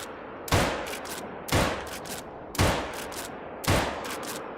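A new weapon in The Hunting Lodge game fires four loud, evenly spaced single shots, each a sharp close crack with a short ringing tail, and no talking.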